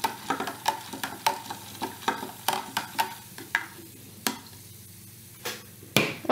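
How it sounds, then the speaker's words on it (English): Corn kernels are stirred in a baking soda solution, giving a series of sharp clinks and scrapes, about two per second, close and clear, with a few quieter gaps. "Let's try one more time to stir it up."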